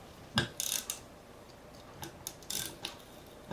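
Torque wrench tightening bicycle handlebar stem bolts to about 8 Newton meters, a series of sharp close mechanical ratchet clicks in short irregular bursts.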